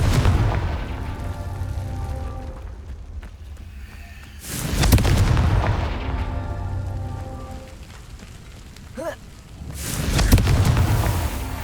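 Confringo spell explosions in the Hogwarts Legacy video game: two heavy booming blasts several seconds apart, each rolling out into a rumble, with a constant loud ambient wash between them and no voices.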